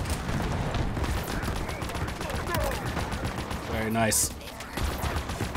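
Rapid gunfire from Halo Infinite's combat near the Spire, dense bursts of shots crackling almost continuously with a louder blast near the end, while a player speaks briefly over it.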